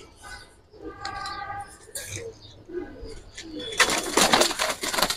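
Giribaz pigeons in a loft, cooing and fluttering at close range, followed by a burst of loud rustling and wing flapping, with people talking nearby.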